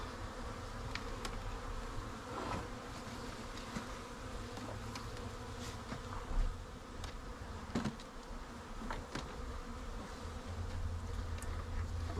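Bees in a backyard observation hive give off a steady, soft, dense buzz that carries on alone throughout, with a few brief knocks and shuffles on top.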